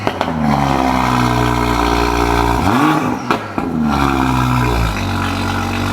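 A Ford Mustang 5.0 V8 with major mechanical issues revs loudly and repeatedly, its engine note climbing and falling in close, sustained surges with no talking over it.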